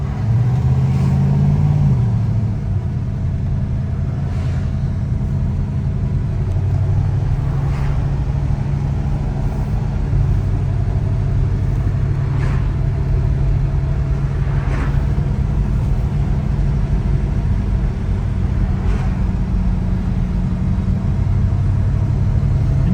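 A numbers-matching 1968 Oldsmobile 442 V8 idling steadily, a deep continuous low rumble close by with faint periodic ticks, no voices over it.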